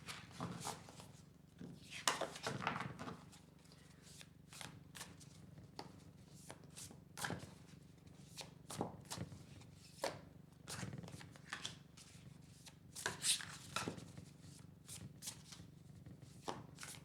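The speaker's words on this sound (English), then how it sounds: "I'm going to start out with pulling a few tarot cards from this Light Seers Tarot." Light Seer's Tarot cards are shuffled by hand in a steady run of soft, riffling flutters and slaps, close and fairly quiet, with no talking.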